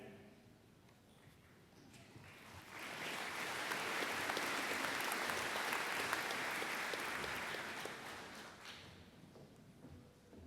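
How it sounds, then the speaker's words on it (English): High school graduation crowd applauding a salutatorian, clapping swelling from quiet to a sustained full round and then tapering off, heard from a distance in a large hall. "You are well deserving of that round of applause"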